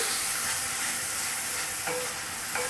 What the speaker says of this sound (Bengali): এটাকেও একটু নাড়াচাড়া করে নিই।